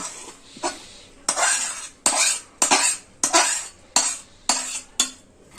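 Sesame laddu mixture for a Sankranti sweet is scraped out of a pan onto a plate with a spoon: about seven loud, rasping scrapes in an uneven rhythm, each with a metallic ring, with quiet gaps between them.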